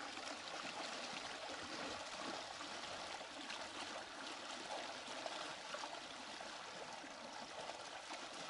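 Steady, broad rushing of a stream flowing and trickling, constant and fairly close, with no voices.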